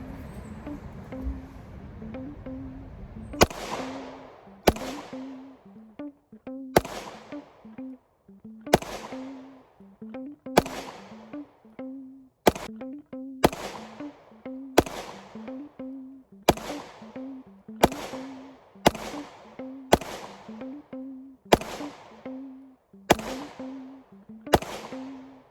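A Glock 43X pistol fires a long string of about sixteen sharp, loud shots at a fairly steady pace, each crack ringing out briefly before the next.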